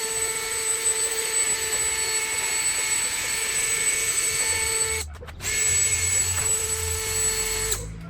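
Steady high-pitched whine of a power drill spinning a sanding pad against a car headlight lens, running continuously with a brief drop near the five-second mark before resuming loud and close.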